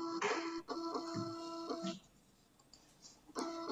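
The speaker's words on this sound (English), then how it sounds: "And it's printing." A Hoin printer prints over WiFi, giving short mechanical whirring bursts in an uneven rhythm with a quieter pause in between, heard close and fairly soft with no talking.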